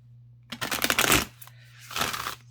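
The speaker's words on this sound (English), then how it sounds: "Shuffle these a little bit here." Two quick bursts of tarot cards being riffled and shuffled close up, a rapid fluttering clatter followed by a shorter second riffle.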